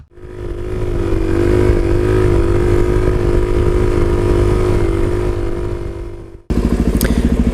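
Yamaha Bolt motorcycle pulling away, its engine a loud steady throbbing rumble that swells and holds before cutting off abruptly, followed by a different sharp pulsing mechanical sound.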